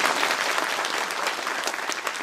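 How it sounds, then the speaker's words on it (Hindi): Loud applause at a university convocation during medal distribution, a dense continuous wash of clapping from a large audience, steady throughout with no voice on top. "जोर से ताली बजाइए न बजाइए।"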